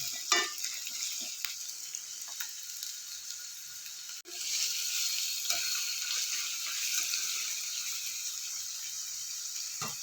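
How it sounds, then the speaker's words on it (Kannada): Chopped onions fry in a pan with a steady, close hiss and sizzle, broken by brief stirring scrapes and one sharp clunk partway through, with no voices. "ಇವಾಗ ಈರುಳ್ಳಿ ಹಾಕೋಣ ಹಾಕ್ಬಿಟ್ಟು ಸ್ವಲ್ಪ ಫ್ರೈ ಮಾಡ್ಕೊಳ್ಳೋಣ"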